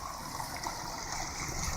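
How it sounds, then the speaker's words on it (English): Steady rushing water flows continuously with a broad, even hiss and no talking, running in two channels right beside a flooded road. "You got water running in two channels right beside the road"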